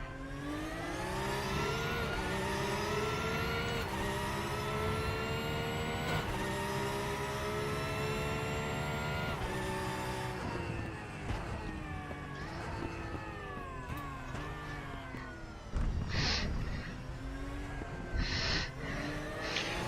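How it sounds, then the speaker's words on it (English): A race car's engine starts and revs in the RaceRoom racing game, its pitch rising and falling in steady sweeps, loud and continuous, ending with a few short blips. "Center the wheel, and let's start up the car."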